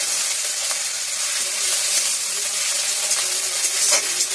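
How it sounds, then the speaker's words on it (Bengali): Onions frying in a pan until reddish, a continuous dense sizzle and hiss up close with small crackles and pops and no talking. "এদিকে পেঁয়াজগুলা একটু লাল লাল করে ভেজে নিই"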